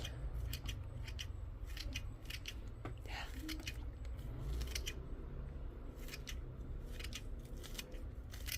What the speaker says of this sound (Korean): 그냥 이렇게 가위로 잘라주세요.